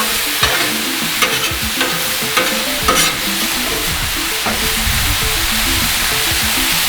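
Meat stir-fries loudly on a Blackstone griddle, a constant hiss of sizzling broken by repeated spatula scrapes and taps across the hot flat-top.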